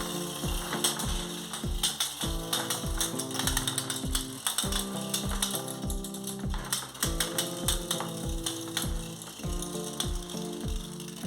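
Winder cranking a braided rubber band motor for a model Pilatus PC6 airplane, a rapid, steady run of close ratcheting clicks repeating in regular bursts throughout.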